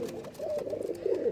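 A Banke pigeon gives a short, low, throaty coo close by, rolling and wavering for just over a second.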